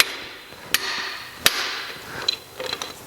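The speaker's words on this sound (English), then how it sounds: "So I'm going to use an impact driver" Manual impact driver struck with a hammer to loosen tight tapered screws on a 1985 Porsche 911 Carrera, two sharp metallic whacks about three-quarters of a second apart, followed by lighter clinks and tool rattles, close and loud.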